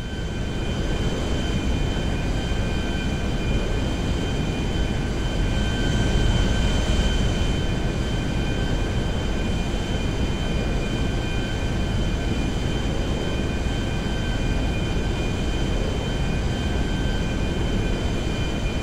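Steady, loud engine drone fills the cabin of a transport plane in a video game, a constant roar with a faint tonal hum, unbroken and with no speech.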